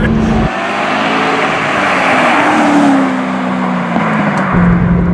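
A 2017 Chevrolet Corvette ZR1 accelerates at full throttle, its engine roaring loud and close and climbing in pitch through gear changes, with no talk.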